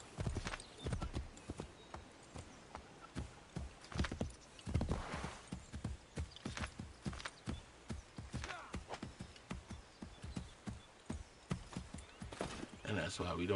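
Hooves clopping steadily from a horse in Assassin's Creed III Remastered, with a neigh, faint and under frequent talking.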